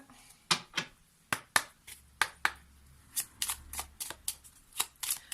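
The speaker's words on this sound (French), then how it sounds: "Allez, on va prendre le jeu de cartes." Playing cards handled and shuffled for a tarot-style reading, giving a run of crisp, separate riffling snaps and slaps at an irregular rhythm, close and clear with no talking.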